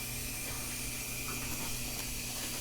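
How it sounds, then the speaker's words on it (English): A pressure canner vents steam while chicken is being canned, a steady loud broadband hiss that holds constant and close throughout with no talking. "Okay, we've been blowing steam."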